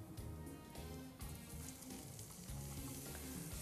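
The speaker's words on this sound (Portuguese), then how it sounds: "Aqui eu já vou dourar a cebola com azeite." Chopped onion sizzles in olive oil in a preheated hot pan, a steady, crackling fry that continues unbroken throughout with no voices.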